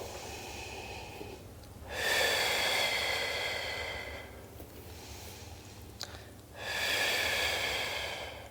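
Strong, deliberate breaths during a gentle postnatal Pilates exercise: two long, forceful exhales through the nose or mouth, each lasting about two seconds, with quieter inhales between, close and clear in a quiet room.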